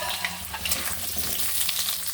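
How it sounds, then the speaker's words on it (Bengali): Potatoes frying in hot oil in a pan give a steady, dense sizzle, loud and close and continuous throughout, with no voices. "এবার আলুগুলো তুলে দিচ্ছি। আলুগুলো ভালো করে ভেজে নেব।"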